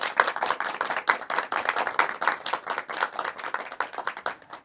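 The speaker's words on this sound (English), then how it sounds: "Give yourselves a round of applause, live audience." A small live studio audience at a kids' talk show claps, the sharp, quick slaps of relatively few hands coming through distinctly in an uneven, lively patter, close and clear with no talking.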